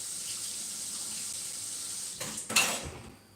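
Something is rinsed under a kitchen sink tap while biscuits are being made, a soft steady run of water that swells briefly into a louder splash near the end.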